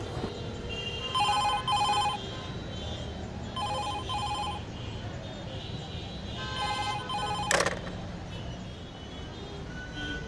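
Telephone ringing in bursts of electronic ring tones, three or four repeated rings at moderate distance with a sharp click near the end, in an indoor scene.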